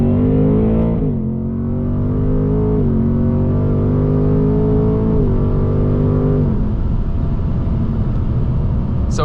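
An S650 Ford Mustang GT's engine pulling in second gear under wide open throttle, a loud, steady roar that climbs in pitch with several brief dips before the note breaks up near the end.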